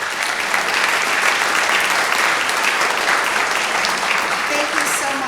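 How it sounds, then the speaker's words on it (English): An audience at a 2019 fall National Honor Society induction ceremony breaks into a loud, sustained round of applause, dense steady clapping with faint voices mixed in throughout. "Please give them a round of applause."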